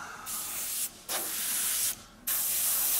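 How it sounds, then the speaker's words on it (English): An airbrush sprays paint onto a Millennium Falcon scale model in steady hissing bursts, three spraying passes separated by brief pauses, close and alone with no talk. "Load up the airbrush."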